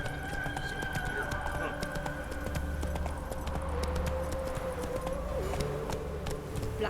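Horse hooves in The Witcher 3 video game, a rapid, steady clip-clop of a ridden horse close by, running throughout alongside game music, with a voice speaking over it.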